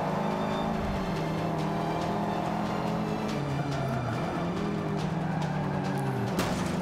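A racing car revs and accelerates in the Forza Motorsport 5 game, its engine note climbing repeatedly and dropping at gear shifts, loud and continuous with no talk.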